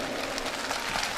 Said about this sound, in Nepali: जोरदारले ताली बजाउनु माथि लगेर